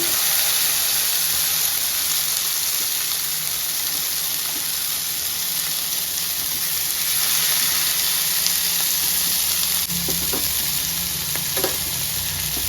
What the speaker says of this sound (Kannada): ಇವಾಗ ಕಾದಿದೆ, ಒಂದೊಂದೇ ಮೀನು ಹಾಕ್ಕೊಳ್ಳೋಣ. ಎಷ್ಟು ಬೇಕೋ ಅಷ್ಟು ಹಾಕ್ಕೊಂಡು ಫ್ರೈ ಮಾಡ್ಕೊಳ್ಳಿ.